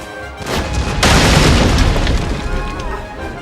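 Cannon artillery bombardment in the Total War: Napoleon strategy game, with loud, heavy booms that swell and overlap into a continuous rumbling barrage.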